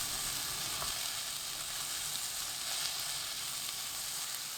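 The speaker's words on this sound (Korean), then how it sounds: "예열한 팬에 식용유 1큰술, 양파 넣고 센 불로 40초 볶아줍니다" Onion stir-fries in a tablespoon of cooking oil in a preheated pan over high heat, giving a steady, even hiss with a couple of faint clicks, moderately quiet and unbroken, with no talking.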